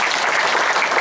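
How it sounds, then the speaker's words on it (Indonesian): An audience bursts into dense, even applause that fills the moment, loud and continuous with no gaps. "Tepuk tangan."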